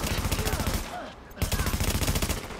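Automatic weapon fire in The Division rattles in rapid bursts, stopping briefly midway before resuming as a steady, close, loud stutter.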